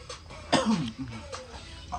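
A single close, harsh cough with a throaty rasp, followed by quieter breathy sounds.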